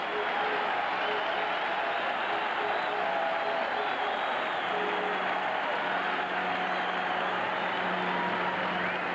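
A big baseball crowd at Game 3 of the 1992 American League Championship Series keeps up a dense, steady roar of cheering and clapping with chanting voices, loud and continuous throughout and without a clear break.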